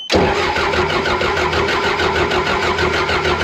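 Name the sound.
John Deere military dozer engine cranking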